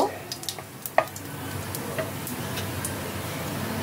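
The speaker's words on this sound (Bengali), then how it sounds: "জিরেটাকে তেলের মধ্যে কয়েক সেকেন্ড একটু ভেজে নেব।" Whole cumin seeds fry in hot oil for paneer bhurji, giving a steady crackling sizzle with a few sharp pops and scrapes near the start, then an even hiss.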